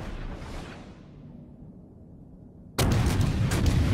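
HMS Nelson battleship firing its main guns in World of Warships: a rumbling background gives way to a sudden, loud, sustained blast of salvo fire that fills the rest of the clip.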